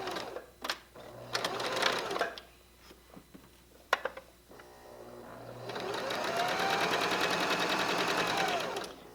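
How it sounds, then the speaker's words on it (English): A sewing machine stitches a quarter-inch seam on a quilted pillow, starting with a few short clicks and bursts before running steadily in a close, even whir for the last few seconds. "I'm going to sew it on a 1/4 inch seam allowance with the edge of the fabric right on the edge of the presser foot."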